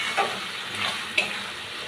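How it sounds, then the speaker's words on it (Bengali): Spice paste (masala) is stir-fried in a pan with jackfruit, soft sizzling under a few quick scraping strokes of a spatula, close and brief, with no talking. "মশলাটা এবার আমি কষিয়ে নেব।"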